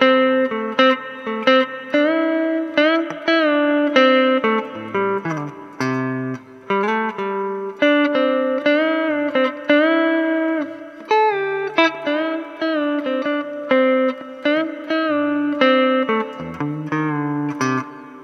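Electric guitar plays the second interlude of a song, an octave above the first interlude, as a continuous run of picked, ringing single-note phrases and bends, solo and without any talking.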